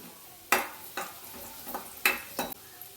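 Ginger is stir-fried in a pan over a high flame: a soft sizzle is broken by several sharp scrapes and clacks of a spatula against the pan at irregular intervals.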